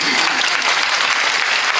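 An audience at a political gathering in Vadakara claps steadily, a dense, loud wash of applause welcoming KK Shailaja that holds even and unbroken throughout, with a voice briefly audible beneath it.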